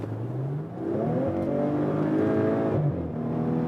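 A 2016/2017 Maserati Ghibli SQ4 with all-wheel drive and a V6 petrol engine pulls hard from 80 to 110, its engine note climbing steadily as it revs up, heard loud and close from inside the car.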